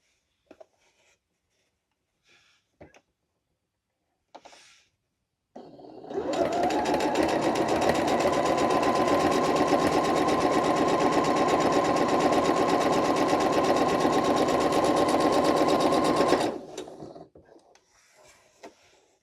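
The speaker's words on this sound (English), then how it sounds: "We're going to sew directly on both lines." A sewing machine stitches along both lines of a quilt block, starting after a few light handling taps and running in a loud, fast, steady whir for about ten seconds before stopping.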